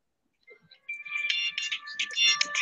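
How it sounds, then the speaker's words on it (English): A phone ringtone goes off during a quiz tournament, a bright electronic melody that starts after a moment of quiet and repeats in loud bursts for the rest of the moment. "Phone's going off."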